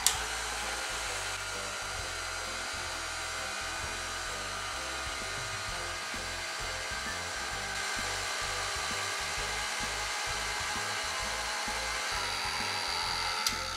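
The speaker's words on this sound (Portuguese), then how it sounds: "E agora com a batedeira ligada na velocidade baixa, eu vou acrescentar as gemas" An electric stand mixer runs at low speed beating egg yolks for a diet panettone, a steady close whirring hum that holds evenly throughout with no talk over it.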